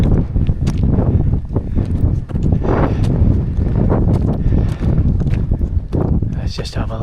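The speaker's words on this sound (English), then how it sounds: "it's getting windy now, as you expect, high up" Strong wind blows across the microphone high on the Glyder mountains of Snowdonia near Devil's Kitchen, loud gusty rumble throughout with footsteps and a voice talking over it.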